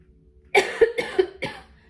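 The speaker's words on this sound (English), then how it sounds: "had a cough for a minute" Close, loud coughing fit: three or four harsh throaty coughs in quick succession over about a second, with no talking.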